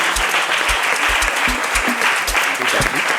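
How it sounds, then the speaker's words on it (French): A studio audience on a French midday TV show applauds the arriving guests, a dense, steady wash of clapping with rhythmic low thumps underneath, loud and continuous throughout. "On applaudit nos invités, bien évidemment."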